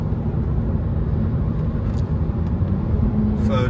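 A BMW 330 Ci ClubSport with a faulty gearbox accelerates in manual mode on a fast road, its engine a loud, steady low drone from inside the cabin, with road rumble beneath and a brief shift in tone near the end.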